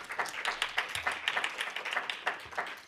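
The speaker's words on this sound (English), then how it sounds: "Can I get a round of applause for Ola, please?" A small talk audience claps for a few seconds, a modest group producing distinct, fairly close hand claps at a quick uneven rhythm.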